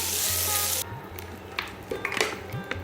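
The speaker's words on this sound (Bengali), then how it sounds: "মাছ রান্না করবো, এর জন্য মাছ ভেজে নিচ্ছি" Fish frying in oil gives a loud, steady sizzle that cuts off abruptly, then utensils clink and scrape against the pan in short knocks.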